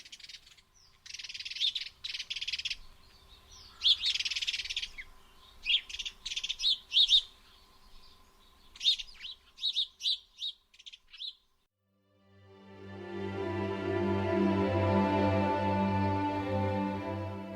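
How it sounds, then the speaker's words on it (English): Sparrow song: bursts of sharp, bright chirps and trills in quick irregular runs, close and clear over a quiet background. The song stops and steady music with a low hum fills the final few seconds. "the recording of Sparrow Song"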